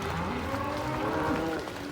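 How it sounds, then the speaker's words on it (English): A herd of cattle moos repeatedly during a spring cattle drive up a road, overlapping low calls rising and falling at steady loudness, close by and continuous with no talking. "So they're driving the cattle up."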